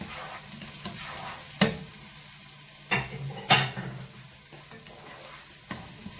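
Onions, garlic and red and green bell peppers sizzling in a pan for paella while being stirred, a constant frying hiss broken by several sharp scrapes and clinks of the utensil against the pan.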